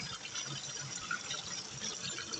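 A showerhead sprays water in a steady, even hiss, a continuous close rush with no pauses and no voices.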